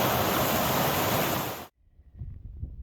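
Rushing waterfall on the Appalachian Trail near the Grayson Highlands, a loud, steady broadband roar close to the microphone that cuts off abruptly partway through, leaving faint ambient sound.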